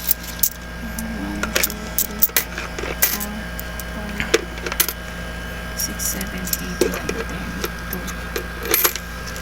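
Coins poured out of a piggy bank, rattling and clinking in scattered bursts of sharp metallic clicks close up, over a steady low background hum.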